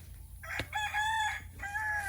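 A rooster crows near a chicken coop on a homestead garden, with a short sharp sound before two close, loud crowing calls in quick succession.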